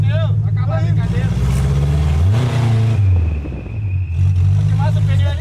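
A Chevrolet Chevette engine revs hard and loud while drifting, pitch rising and falling through bursts of throttle, close by, with people talking over it.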